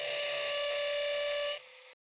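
A DeWalt DCD805 cordless hammer drill set to hammer mode and fastest speed bores with a 5 mm bit, giving a loud, steady, high-pitched whine close by that drops off abruptly near the end.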